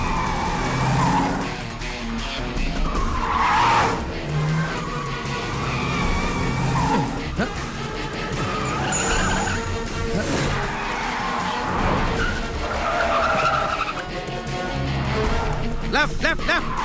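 A car drives fast with tires skidding and squealing in an action chase scene, engine roaring and screeching in bursts under dramatic music and shouted voices.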